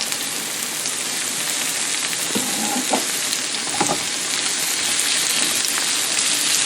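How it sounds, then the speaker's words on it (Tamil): Leeks sautéing in a pan for veggie couscous give a loud, steady sizzle and crackle throughout, with a few soft stirring scrapes partway through and no talking. "ஒரு 2 நிமிஷம் வதங்க விடணும் லீக்ஸை."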